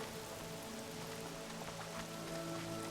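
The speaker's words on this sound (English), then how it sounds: "Everything's sharp and looming in the rain." Soft, steady rainfall patters on surfaces in the video game Horizon Zero Dawn Remastered, a dense continuous hiss with faint tonal hum beneath, no voices.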